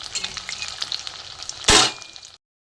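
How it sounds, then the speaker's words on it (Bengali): Salted flour dough pieces frying in hot oil give a steady close sizzle, with a brief loud burst of crackling near the end before the sound cuts off. "এগুলো ভাজতে দিয়েছি।"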